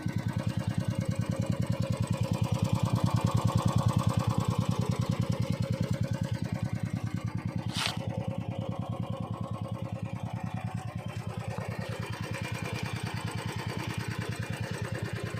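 A Royal Enfield motorcycle engine runs at a steady idle, its rapid even thumping loud and close throughout, with a brief sharp hiss partway through and no voices.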